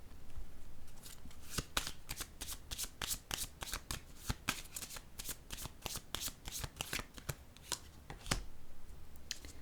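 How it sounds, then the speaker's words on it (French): A deck of cards riffled and shuffled up close, a dense run of crisp rapid flutters and snaps repeating steadily throughout, with no talking. "Je vais piger une autre carte"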